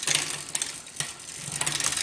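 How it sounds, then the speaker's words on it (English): Near and moderately loud, a bicycle chain runs over the rear cassette and clicks into gear as the derailleur is pushed, a continuous whirring rattle with a few brief clacks, with no one speaking. "pushing on the derailleur and seeing if the chain will fall smoothly back down into the"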